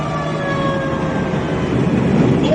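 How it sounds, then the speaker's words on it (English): Tornado warning sirens wail across a town in Indiana or Kentucky during a storm, a long steady tone sounding distant and droning beneath rumbling wind and road noise. "tornado sirens are blaring"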